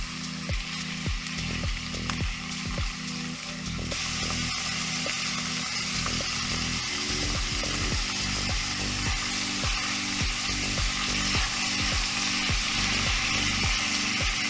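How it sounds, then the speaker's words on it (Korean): Vegetables, squid and shrimp stir-frying with tofu in a pan, a loud close sizzle with repeated scraping strokes of a utensil, steady and continuous with no voices. "모든 야채와 오징어, 새우를 넣고 살짝 볶다가"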